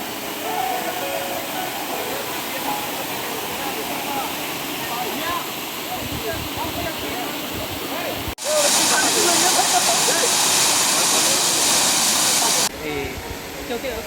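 Waterfall in Khagrachhari, Bangladesh, a steady rushing wash of falling water that surges louder and brighter for several seconds midway before easing back.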